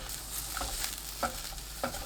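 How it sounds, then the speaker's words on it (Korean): Shiitake mushrooms stir-fried over high heat in a pan with cooking oil, minced garlic and scallion, giving a steady close sizzle with soft clicks and stirring taps at intervals. "지글지글 소리 나면 표고버섯 넣어주세요. 2분 볶습니다."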